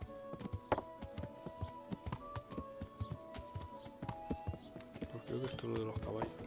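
Horse hooves clip-clop in the Kingdom Come: Deliverance video game, a steady run of close, hollow hoof knocks with a low background hum.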